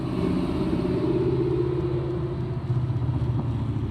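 A car engine revs at a drag racing night in Nederland: a continuous rumbling drone of moderate loudness, with a slight dip and a rougher pulse near the end.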